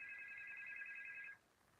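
Telephone ringing with an incoming call: a steady electronic two-tone trill, faint and slightly distant, continuing for over a second and then stopping abruptly.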